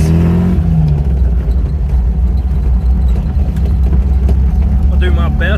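An MGB GT fitted with an upgraded exhaust idles and pulls away with a loud, steady low engine rumble that fills the whole stretch, with a voice briefly heard near the end.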